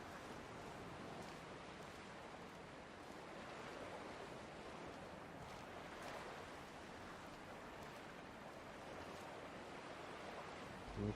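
Sea waves in Dear Esther make a steady, even wash of surf across an open stretch of sea, a soft continuous roar with a breezy hiss and no voices over it.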